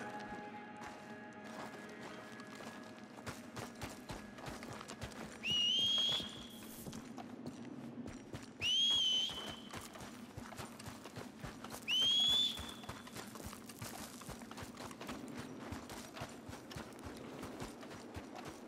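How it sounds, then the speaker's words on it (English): Horse hooves clip-clop at a steady walking rhythm in Red Dead Redemption 2. Three short rising whistles ring out over the continuous quiet hoofbeats. "Get out of here, horse."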